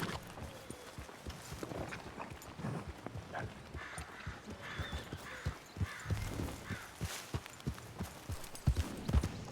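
Horses in a video game, one carrying a flag with a large posse, clip-clop steadily along in a dense run of overlapping hoofbeats over a low ambient bed, with a faint whinny and distant bird calls.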